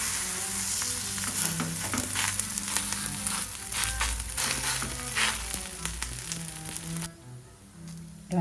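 Ragi adai fries on a hot pan, a close, continuous sizzle with crackles and occasional stirring scrapes, the frying fading toward the end.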